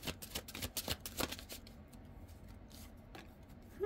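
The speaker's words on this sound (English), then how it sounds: "You guys can fast forward through the shuffling if you don't like it." Tarot cards are shuffled close by, a run of quick papery riffles and flicks that comes in bursts, busy at first and then thinning to sparse soft rubs, with no voices.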